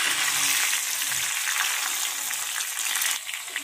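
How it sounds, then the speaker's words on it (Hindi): Onion frying with crushed garlic in a pan makes a loud, continuous hiss that eases slightly near the end, close, steady and free of voices. "अब हम ऐड करेंगे ऑनियन और इसको थोड़ा सा फ्राई करते हैं"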